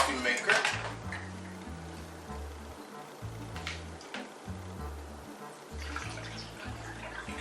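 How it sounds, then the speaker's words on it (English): Water splashes and pours steadily into a coffee maker amid clattering kitchen sounds, with a low rhythmic rumble running underneath throughout. "now I'm going to put the water in the coffee maker."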